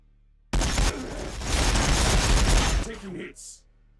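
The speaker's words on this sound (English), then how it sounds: "Wiped him out with a single shot from the mech." Blaster and gunfire shots in a Warhammer 40,000: Battlesector battle between Orks and T'au: a dense, loud volley that starts abruptly, runs for about two seconds and then cuts off.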